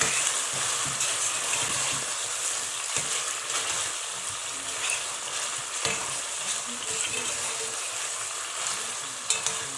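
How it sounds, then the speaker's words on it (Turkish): Tomato paste fries and is stirred in a pan for broad bean stew, giving a steady close sizzle with scraping stir strokes throughout and no talk. "Salçamızın kokusu çıkıncaya dek güzel bir şekilde kavuralım."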